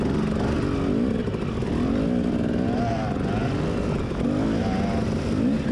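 A KTM motorcycle races on a slick dirt track, its engine a loud, continuous close-up drone that rises and falls in pitch as the rider works the throttle through the battle with nearby bikes.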